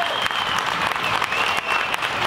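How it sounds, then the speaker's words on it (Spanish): A festival crowd at a rondalla concert in Durango claps warmly for a performer, a strong, continuous burst of applause with a few sharper individual claps standing out. "Fuerte el aplauso"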